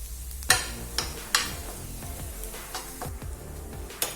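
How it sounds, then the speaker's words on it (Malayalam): A spoon scrapes and knocks irregularly against a pan while egg masala with Kashmiri chilli powder is stirred for mutta pollichathu, over a steady low sizzle of frying. "ഇളക്കി കൊടുക്കാം."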